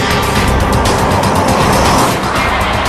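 A test car on test tyres sweeps through a lane change manoeuvre, giving a loud, close, continuous roar of engine and road noise with a faint hint of tyre scrub throughout.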